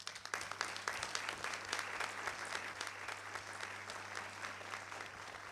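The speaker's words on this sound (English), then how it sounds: "I really want to start by that round of applause to everyone who have put this together" A seminar audience gives a round of applause, a fairly quiet patter of many hands clapping in a room with a low steady hum underneath.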